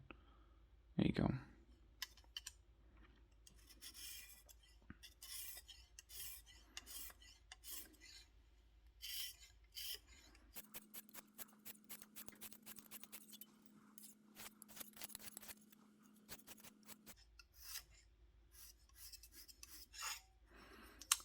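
A knife is stroked repeatedly across a Lansky fine sapphire sharpening stone, giving quiet rhythmic rasping scrapes and light clicks, close and faint, with a brief steady hum midway.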